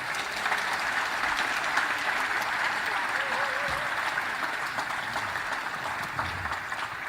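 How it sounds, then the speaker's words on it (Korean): Sustained applause from a large audience at a Korean National Assembly constitution ceremony, steady crowd clapping at moderate volume that carries on throughout, with a brief murmur of voices beneath it. "크게 박수 한번 부탁드립니다"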